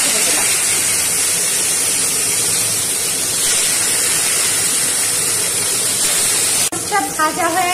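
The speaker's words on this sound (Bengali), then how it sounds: "দেখুন কড়াতে তেলটা গরম হয়ে গেছে। এবার এই দেখুন মাছটা ছেড়ে দিলাম।" A rohu fish coated in salt and turmeric is slipped into hot oil in a kadai, giving a loud, steady, broadband sizzle and hiss that carries on evenly before a sudden sharp break near the end.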